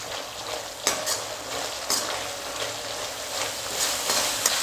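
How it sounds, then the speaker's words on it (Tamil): Onion paste for a chicken and potato gravy sautéing in a pan, a continuous close sizzle broken by a few sharp spoon-stirring scrapes. "வெங்காய விழுது சேர்த்ததுக்கப்புறமா ஒரு கொஞ்சம் நேரம் நம்ம நல்லா வதக்கணும்"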